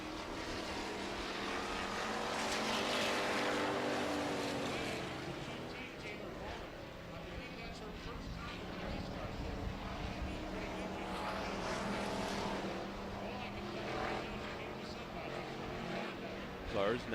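Pure stock race cars circle a dirt oval track in a heat race, their engines droning steadily near and far for the whole stretch, with a commentator talking over the noise.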